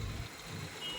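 A car's reversing beeper sounds while the vehicle backs slowly in reverse gear during a driving lesson, a steady faint tone riding over low engine rumble for about a second, with no talk.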